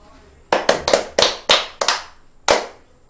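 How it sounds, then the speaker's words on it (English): Hands clap out a rhythm during a guitar lesson, seven crisp, close claps in an uneven pattern with short gaps between them, clear and loud against a quiet room. "can you clap this rhythm for us?"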